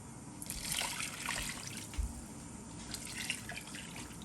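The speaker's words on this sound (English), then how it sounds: "we're going to cover our provision with some water." Water trickles and splashes steadily into a pot of provisions for Guyanese fish soup, a continuous pouring sound with a low thump partway through.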